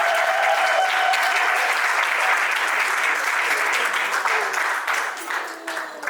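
Steady applause from guests at a civil wedding ceremony, dense and sustained across the whole stretch, easing slightly toward the end, with a faint voice underneath near the start.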